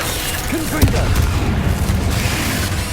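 A Confringo fire spell detonates in Hogwarts Legacy on PS5, a sharp booming blast near the start followed by continuous rumbling combat noise and overlapping game sound effects.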